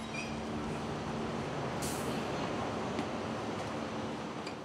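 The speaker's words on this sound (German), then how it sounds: "Der Zug fährt endlich ein." A Swiss train pulls into the station with a steady loud rolling rumble, a brief hiss of air brakes, and faint squeals and clicks from the wheels over the constant roar.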